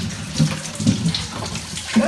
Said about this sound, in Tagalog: Ganyan ang kalakas ang aming tubig.